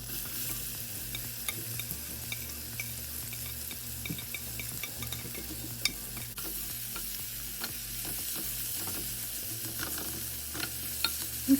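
Chopped onions fry in hot oil with spluttering cumin seeds and a pinch of asafoetida, giving a steady close sizzle with light stirring scrapes throughout and no talking.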